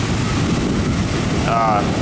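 Pacific Ocean surf and wind on Malibu beach: a loud, steady roar of waves with wind buffeting the microphone, continuous throughout.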